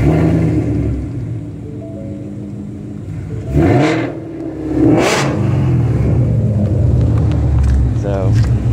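2015 Ford Mustang GT Premium with the 5.0 Coyote V8 idling with a steady low rumble, then revving twice in short swells before settling back to idle, with a person talking over it.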